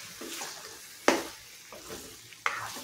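A bottle gourd curry with coriander is stirred in a pan, soft sizzling under three sharp scraping knocks of the spoon against the pan, close and fairly quiet.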